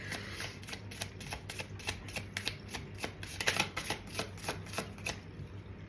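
Tarot cards are shuffled close up in repeated quick riffling bursts, crisp and fairly quiet, with no talk.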